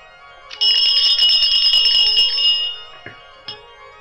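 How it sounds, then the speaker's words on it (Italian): A set of bells rings for about two seconds as a bright, sustained metallic clang, then fades, leaving two brief isolated strikes after it. No voices. "facciamo suonare tutte le campane del mondo"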